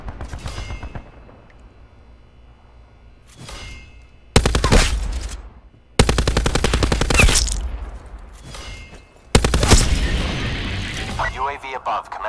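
Loud bursts of rapid automatic gunfire from a modded military video game, in three sustained volleys separated by brief pauses, with quieter radio-style voice chatter and ambient game sound between them.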